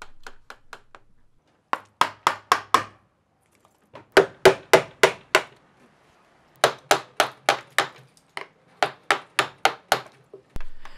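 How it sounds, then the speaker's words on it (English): Sharp, rhythmic taps of a mallet driving a chisel into a rotten tree stump, in quick bursts of four or five strikes separated by short pauses, close and clear. "I'm using chisels to do some fine tuning on the shaping."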